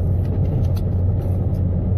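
A car driving on the road during a commute, a steady low rumble of engine and road noise from inside the cabin, continuous and fairly loud with no talking.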